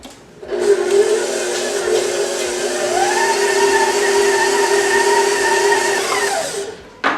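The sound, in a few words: stand mixer with dough hook kneading bread dough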